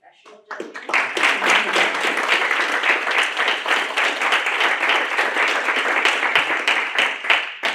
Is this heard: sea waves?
no